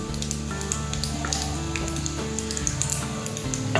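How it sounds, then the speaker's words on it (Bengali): Radhuni seeds sizzling in hot mustard oil for a raw mango and peanut chutney: a crackling, spitting fry texture runs steadily beneath louder tonal background music. "সর্ষের তেল গরম হয়ে গেছে এখন আমি রাঁধুনি ফোড়ন দিয়ে দিয়েছি"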